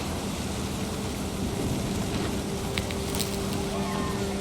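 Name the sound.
thunder and rain in What Remains of Edith Finch video game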